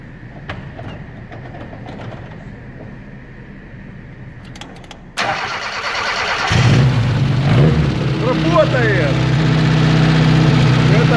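A car engine on an off-road outing idles quietly under speech, then after a sharp knock it starts or revs up into a loud, sustained roar that rises in pitch and holds steady, with voices talking over it.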